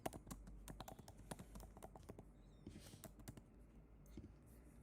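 Rapid clicking keystrokes on a computer keyboard as a template name is entered, in irregular bursts, close but quiet, with no talking.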